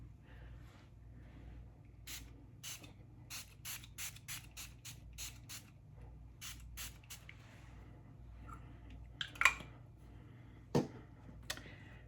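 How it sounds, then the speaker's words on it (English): A handheld spray bottle spritzes mist onto a face in a quick series of about a dozen short, sharp hissing puffs, fairly close and quiet, followed by a few isolated clicks and taps. "I'm just going to do a spritz all over my face."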